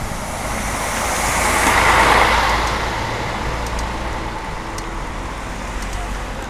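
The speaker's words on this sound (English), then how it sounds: "you see cars going one way to the church at this time of the day" Cars pass along a sunny Sunday-morning road in Medjugorje, a broad tire-and-engine rush swelling as one vehicle goes by nearby, then settling into steady traffic noise.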